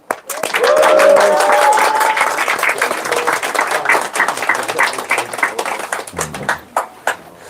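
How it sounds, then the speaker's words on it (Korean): A crowd at a live political party event in Korea bursts into loud, sustained applause that runs for several seconds, then thins into scattered claps, with a brief voice near the start. "우리 함께 하신 유튜버 분들 박수 한번."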